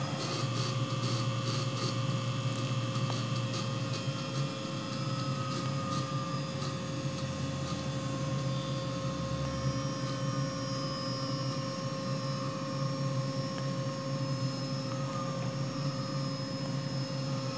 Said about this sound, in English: The motor's spinning up.